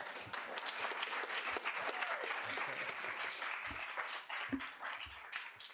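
A university student-life audience applauds a speaker with dense, continuous clapping that holds steady throughout, sounding somewhat distant and low in level.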